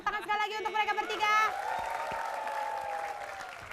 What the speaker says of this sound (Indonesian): Tepuk tangan sekali lagi untuk mereka bertiga.